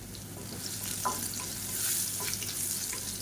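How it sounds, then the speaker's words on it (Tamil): Crushed garlic and a pinch of asafoetida frying in hot oil make a steady, close hiss with light crackles and an occasional soft stir, no voices over it. "பூண்டு வந்து ஓரளவுக்கு நல்லா செவக்க ஆரம்பிச்சிருச்சு"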